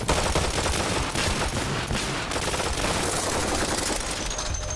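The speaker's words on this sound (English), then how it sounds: "suppressed guns aren't actually silent, hence why you can hear suppressed guns from hundreds of feet away" Suppressed gunfire in a video game crackles as a dense, continuous burst of rapid shots, loud and unbroken from start to finish.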